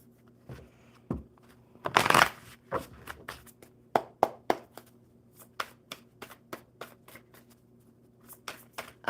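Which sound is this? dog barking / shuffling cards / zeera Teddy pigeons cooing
shuffling cards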